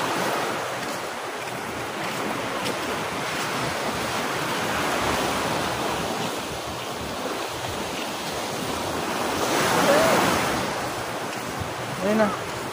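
Ocean waves wash onto a wide beach in steady, rolling surges with wind buffeting the microphone, the surf swelling louder around the middle and near the end, with a brief high squeak near the end.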